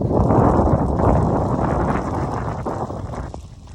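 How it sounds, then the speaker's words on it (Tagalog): Strong wind in a Montreal snowstorm roars and buffets against the microphone in a dense, rumbling rush that eases slightly toward the end. "lakas din ng hangin ngayon."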